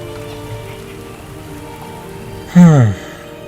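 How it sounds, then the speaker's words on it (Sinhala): Steady rain falls during a storm night in a Sinhala ghost story, a continuous soft hiss of drops, briefly interrupted near the end by a short spoken voice. "වහින එකත් හොඳයි."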